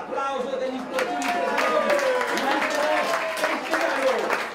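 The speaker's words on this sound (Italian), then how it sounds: "eccolo il momento, eccolo l'applauso degli sportivi" Spectators applaud at a cycling trophy awards ceremony in Spello, a steady wash of clapping from a crowd, with a voice speaking over it throughout.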